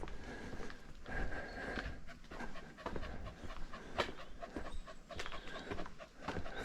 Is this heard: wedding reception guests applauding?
no